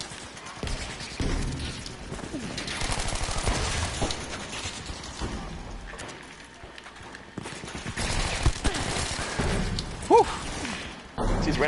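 Light machine gun fire and other gunfire in Battlefield 5 on the Operation Underground metro map, heavy bursts and thuds running nearly throughout, with a voice talking under the shooting.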